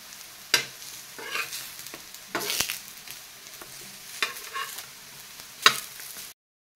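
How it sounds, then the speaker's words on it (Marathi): Alu vadi fry in a little oil in a pan, a quiet sizzle broken by several sharp scrapes and clicks of a spatula turning the pieces, then a sudden cut to silence. "अशा रंगावर तुम्ही थोड्याशा तेलावर या वड्या फ्राय करून"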